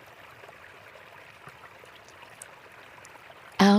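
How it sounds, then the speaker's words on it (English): A gentle stream flows in a soft, steady trickle, faint and continuous, until a loud abrupt burst of another sound cuts in at the very end. "water continuing its endless, gentle song"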